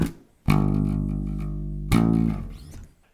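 An electric bass plays two long, ringing plucked notes, close and clear, from a bass solo, with the second note decaying to silence.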